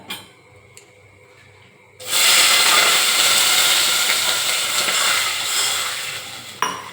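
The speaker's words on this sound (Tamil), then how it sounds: "அந்த தண்ணி கிளாஸ் இப்போ நான் ஊற்ற போகிறோம் பாருங்கள்" After a quiet start, water is poured into a hot pan while cooking semiya kesari, and a loud burst of hissing sizzle erupts and continues steadily, fading slightly before a sharp clink near the end.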